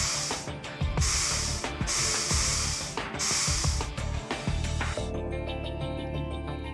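Forensic spray hisses in bursts during an evidence-searching scene in the game Trauma Team, four long sprays in a row over busy game music, then music alone.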